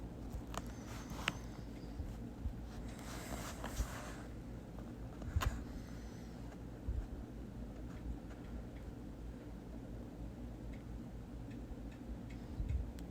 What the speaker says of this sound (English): So now I'm tightening down the bolts with the ratchet.